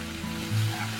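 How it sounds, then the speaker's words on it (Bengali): Onions frying over a medium flame in a pan, a steady close sizzle with a brief louder swell of stirring midway through, no voices. "এখন মিডিয়াম ফ্লেমে পেঁয়াজটাকে নেড়ে চেড়ে লাল করে একটু ভেজে নিচ্ছি"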